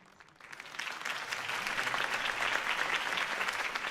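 A crowd bursts into applause after a campaign speech in Telltale's Batman game, rising from quiet within half a second into a dense, steady roar of clapping that holds to the end.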